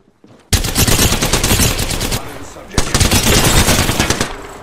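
Sustained automatic gunfire crackles in Apex Legends, loud rapid bursts starting abruptly after a brief quiet moment, pausing for about half a second, then resuming densely, with voices partly buried underneath.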